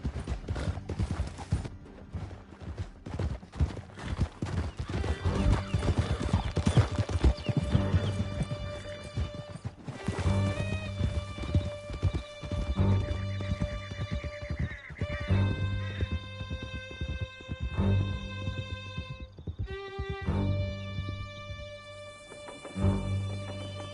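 A horse galloping in Red Dead Redemption 2: loud, continuous hoofbeats pounding in quick rhythm for a long stretch, with occasional neighs and whinnies and faint game mechanisms underneath, no speech.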